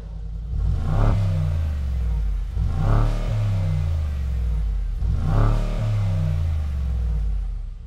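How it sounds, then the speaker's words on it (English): A deep Brabus G800 (Mercedes-AMG G63) V8 engine is revved three times in succession, each blip rising sharply then falling back to a rumbling idle, close and loud. "We're going to give it some revs."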